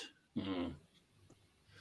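A dog gives a single short, muffled bark or huff in an otherwise quiet indoor setting. It is faint and somewhat distant.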